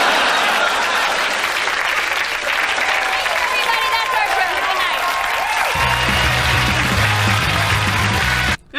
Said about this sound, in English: Soak in their applause.